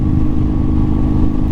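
A Harley-Davidson V-Rod cruiser motorcycle engine running steadily, a loud, close, continuous low rumble with no talking over it.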